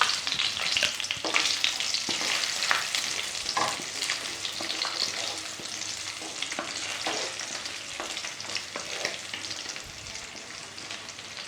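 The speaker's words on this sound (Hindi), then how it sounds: "1 मिनट तक हम आलू को घी में इसी तरीके से पकने देंगे।" Boiled potatoes fry in ghee in a non-stick pan, a continuous crackling sizzle punctuated by soft scraping stirs, close and steady with no talking.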